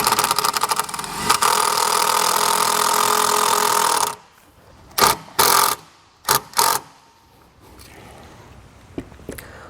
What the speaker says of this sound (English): I'm going to try to screw it in without it walking too much to the side of this panel here.